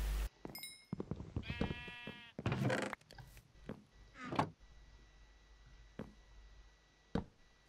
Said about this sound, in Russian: Овцы бегают.